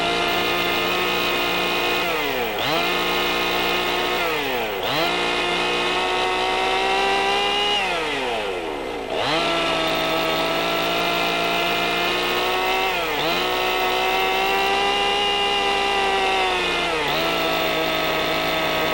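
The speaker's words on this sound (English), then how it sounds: "Continue this adjustment until the saw revs up smoothly and powerfully." A chainsaw engine runs loud and close while its carburetor screws are adjusted, repeatedly dipping and climbing back up to a high, steady rev.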